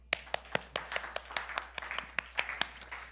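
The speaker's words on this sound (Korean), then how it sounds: "박수 한번." A church congregation claps during a Wednesday worship service, about fifteen quick, sharp claps in a brisk, slightly uneven rhythm, fairly faint and without voices.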